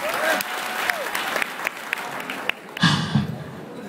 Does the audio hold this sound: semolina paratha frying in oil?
no